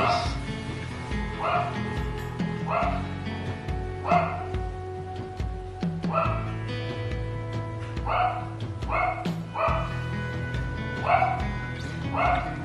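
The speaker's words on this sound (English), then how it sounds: "That's my very irritating Yorkie in the background." A Yorkie barking repeatedly in the background, sharp, high yips in a steady series, under a person talking and low background hum.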